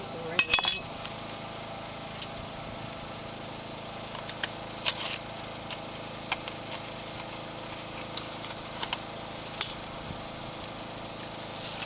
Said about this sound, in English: Put on a clean lid and a clean ring.